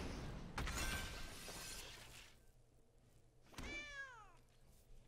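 A cat meows in the MTG Arena digital card game, a single clear rising-and-falling synthetic meow heard after an earlier glassy shattering effect, moderately loud over quiet game ambience.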